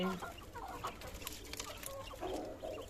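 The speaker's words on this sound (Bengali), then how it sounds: "এই হচ্ছে ফার্মি মুরগি।" Farm laying hens, kept alongside quail, cluck repeatedly at close range in a steady irregular chatter with a few sharper calls, against a low continuous farmyard hum.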